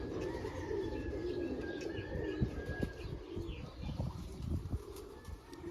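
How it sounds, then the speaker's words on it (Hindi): Pet pigeons cooing and fluttering close by, with repeated soft coos and bursts of wing flapping over a steady background hum. "ये टैडी कबूतरों में से निकले हैं।"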